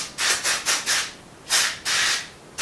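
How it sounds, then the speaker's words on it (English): Carb cleaner sprayed around the spark plug area of a generator, heard as a series of close hissing bursts: three short sprays, a pause, then two longer blasts. "So I'm going to hit that with some carb cleaner real quick"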